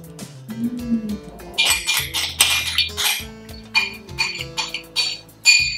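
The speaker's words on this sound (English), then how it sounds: "So now I'm going to add my tahini and lemon. Mix it again and we'll add it here." Tahini and lemon are mixed in a bowl for a Palestinian potato salad, with uneven clinks and scrapes of a spoon against the bowl, close and intermittent.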